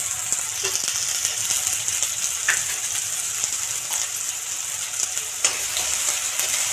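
Chopped onion, ginger and green chilies fry in a pan, giving a steady, close sizzle with occasional stirring scrapes throughout.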